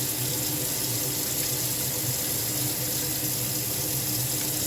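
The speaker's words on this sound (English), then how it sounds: "you definitely want to go ahead and wash your hands" Tap water runs steadily into a kitchen sink during handwashing while a sweet potato shepherd's pie is prepared, a loud, constant splashing rush with no talking.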